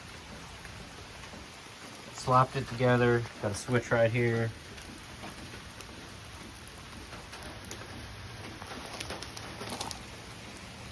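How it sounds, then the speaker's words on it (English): Steady rain patters outdoors as a faint, even hiss throughout, while someone talks briefly over it in the middle. "Rain pissed me off."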